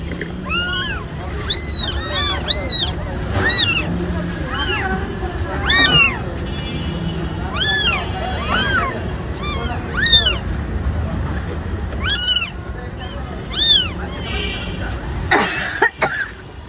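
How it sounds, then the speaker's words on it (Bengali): A cat meows repeatedly, short clear cries scattered every second or two, close by, while people talk in the background. "এই যে দেখো ওই বিড়ালটা"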